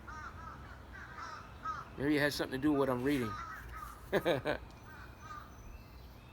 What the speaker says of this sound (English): Murder of crows.